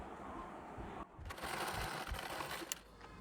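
Sewing machine stitching a Nauvari saree, a steady close whirring motor with a short pause before it resumes louder.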